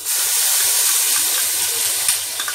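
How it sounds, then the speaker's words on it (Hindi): Ginger and garlic hit hot oil with whole cumin and garam masala for a chicken keema and whole masoor biryani, giving a steady close hissing sizzle with a small pop near the end. "अभी इसमें अदरक लहसुन डालेंगे"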